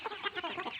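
A brief burst of hens clucking together in a flock of about 100, soft and somewhat distant, with overlapping murmuring calls.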